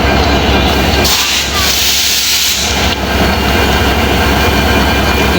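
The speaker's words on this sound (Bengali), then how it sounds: "ট্রেনের ইঞ্জিন এটা।" A Bangladeshi train engine idles at Joydebpur station, a loud continuous rumbling drone with a steady hiss, with a brief brighter burst of hissing partway through. No one speaks.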